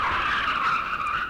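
Car tires skid and squeal in the dating game Tokimeki Memorial 2, a steady, loud, sustained screech lasting the whole moment with no voices over it.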